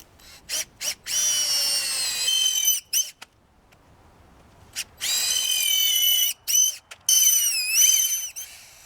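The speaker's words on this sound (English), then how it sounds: "get the drilling." Power drill boring into wood while building a fence, several whining bursts of a few seconds each separated by short pauses, the motor pitch sliding as it loads, close and fairly loud with no speech.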